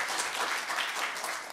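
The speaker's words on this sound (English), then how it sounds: "Please give them a big round of applause." A conference audience at an intellectual property session gives a round of applause, a brief, even burst of many hands clapping at moderate loudness with no talking over it.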